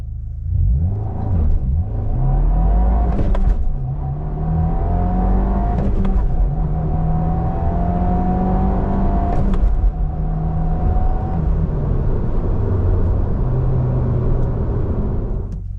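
A 2024 Subaru WRX with a manual gearbox pulls away in a gentle launch, its loud engine rising in pitch through successive gears with short dips at each shift, close and steady throughout.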